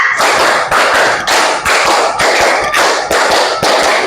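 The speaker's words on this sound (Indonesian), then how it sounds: "Tepuk 1, tepuk 2, tepuk 3, tepuk 4, tepuk 5, 3 kali tepuk 5" A classroom of students claps in a counted pattern, sharp bursts of hand claps arriving in short rhythmic groups with brief gaps between them, loud and close, without talk.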